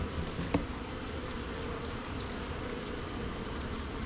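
Honeybees buzzing around a merged two-queen hive, a soft, continuous hum with one brief tap near the start, heard at a low level with no voices.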